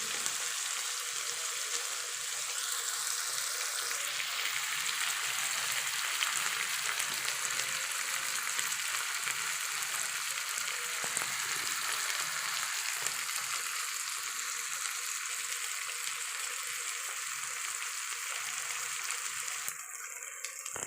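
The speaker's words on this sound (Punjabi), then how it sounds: "ਟਮਾਟਰ ਨੂੰ ਅਸੀਂ ਚੰਗੀ ਤਰ੍ਹਾਂ ਪਕਾਵਾਂਗੇ ਜੀ" Tomatoes sizzle and fry steadily in a pan while cooking down for a potato and capsicum curry, a continuous loud hiss with no talking.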